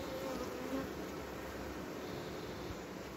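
Honey bees buzz densely between the frames of a hive, a continuous close, even drone with no voices.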